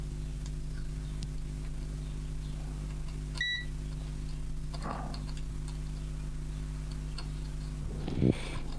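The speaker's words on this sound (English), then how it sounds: "I did get a beep, but that was a short" A circuit tester on a high-voltage SMD-to-THT conversion board gives a single short electronic beep over a steady mains hum, with faint ticking and a brief handling clatter near the end.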